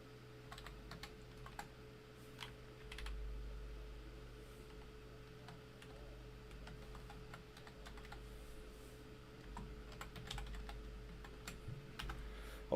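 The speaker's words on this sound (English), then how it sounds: "Hopefully my typing isn't super loud." Computer keyboard typing in short bursts of quiet clicks over a low electrical hum and faint room noise, close but soft, with no talking.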